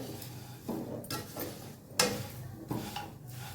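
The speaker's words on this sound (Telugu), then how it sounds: "కాకరకాయ ముక్కలు వేసిన తర్వాత ఇలా మొత్తం కర్రీ కలుపుకోవాలి" A spoon stirs bitter gourd pieces through a seasoned curry in a pan, producing a few distinct scraping clinks against the metal at an irregular pace, close and moderately loud, with no talking.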